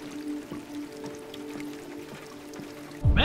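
Rain falling in the video game Detroit: Become Human, a gentle patter of drops over a low hum, cut off near the end by a sudden louder burst of sound.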